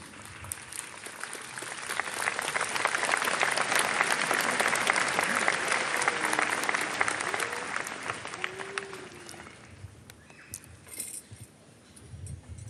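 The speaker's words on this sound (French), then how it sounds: "s'il vous plaît, n'applaudissez plus" A congregation applauds at a cardinal's homily at Sainte-Anne-d'Auray: sustained, dense clapping from a large crowd in a church that swells, then thins and fades toward the end.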